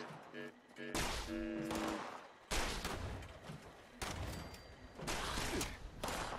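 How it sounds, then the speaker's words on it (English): Heavy gunfire erupts in Fallout 76, several loud bursts and volleys stacked close together, with a short tonal sound just before the shooting starts. "Who's firing?"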